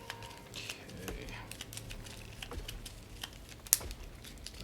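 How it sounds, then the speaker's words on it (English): Board game initiative cards being shuffled by hand, giving quick soft riffling and tapping flicks close by, with one sharper snap near the end, while someone talks. "I guess I shouldn't be looking at the initiative cards as I'm shuffling them"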